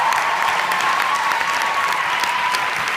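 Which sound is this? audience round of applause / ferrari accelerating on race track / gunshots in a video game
audience round of applause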